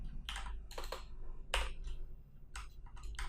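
Typing on a computer keyboard while entering HTML code: short bursts of quick, light key clicks separated by brief pauses, close and fairly quiet, with no talking.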